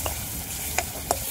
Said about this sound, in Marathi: जो मी वाटला ना तो मसाला, कांद्या लसणाचा जे पेस्ट होते ते तेली टाकून आता ते परतून घेतो